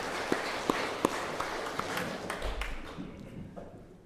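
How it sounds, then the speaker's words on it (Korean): A church congregation claps during a Sunday worship service, with a few sharp claps at first and then a soft wash of applause that gradually dies away. "큰 박수로 하나님께 영광."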